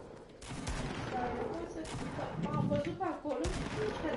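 Fortnite gunfire crackles in quick bursts at a faint, distant level, with voices talking over the shots.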